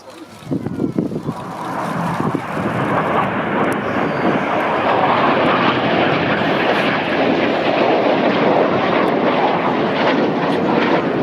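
Red Arrows display jets at the RIAT airshow build from a distant rumble into a loud, sustained broadband jet roar that fills the clip, with a commentator's voice faintly underneath at the start.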